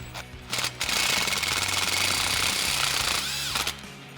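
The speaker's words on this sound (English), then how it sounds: "Then we're going to snug this down with our 13mm socket on our impact." An impact wrench with a 13mm socket snugs down an exhaust clamp on a 2019-2024 Chevrolet Silverado or GMC Sierra 1500, giving one loud, sustained hammering rattle for about three seconds close by.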